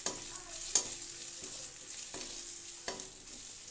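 A spoon stirs ground spices such as turmeric, coriander and Kashmiri chilli powder in oil in a frying pan while cooking cauliflower and potato for a fish curry, with a soft sizzle and a few scraping taps against the pan.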